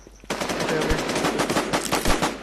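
Rapid automatic gunfire in the Warz video game, a continuous burst of close, loud shots lasting a couple of seconds with faint voices underneath.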